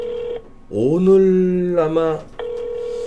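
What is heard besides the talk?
telephone call connecting tones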